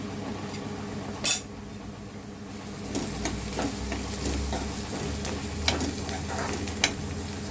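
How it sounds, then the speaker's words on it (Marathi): Onions frying in a pan with turmeric powder are stirred with a spoon, giving a steady sizzle under soft scraping strokes and a few sharp clinks against the pan; no one speaks. "हळद पावडर टाकून चांगला हलवून घ्यायचं आहे"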